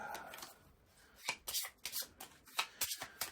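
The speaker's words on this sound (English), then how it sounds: "All right, so I'll just shuffle that back up." A deck of cards for This War of Mine: The Board Game is riffled and shuffled close up, with a run of crisp bursts that speed up toward the end.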